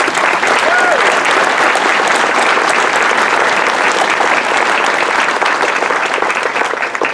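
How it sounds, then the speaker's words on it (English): A large crowd applauds honoring US Army soldiers at a patriotic event, dense sustained clapping that stays loud and steady throughout with no letup. "Let's give them one more round of applause."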